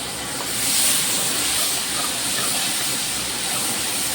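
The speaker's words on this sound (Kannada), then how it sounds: "ನೋಡಿ ಟಮಾಟೆ ಹಾಕುತ್ತಿದ್ದೇನೆ" Tomatoes dropped into a hot pan give off a loud, steady, broad hiss of sizzling that swells slightly and then holds evenly throughout, close up and with no voices.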